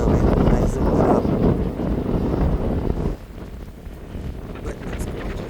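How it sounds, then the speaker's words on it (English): Strong wind buffets the microphone on a salt marsh nature trail in Marine Park, Brooklyn, a loud, steady roar that drops back slightly partway through and continues at a lower rumble. "It's also very windy, and you might not even hear me"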